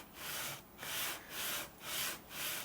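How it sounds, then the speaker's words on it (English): Sanding rosewood Telecaster guitar fretboard side dots with 220 grit sandpaper on a file board: five even back-and-forth strokes, a close rhythmic scraping whoosh with brief pauses between passes. "I'm going to take this same file board we got here with this 220 grit sandpaper on it, and we're going to flatten out these side dots real quick"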